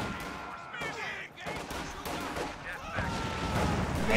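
Machine gun bursts and flamethrower fire in a WWII strategy game, dense crackling gunfire and rushing blasts layered into a busy, continuous battle din, with a voice talking over it.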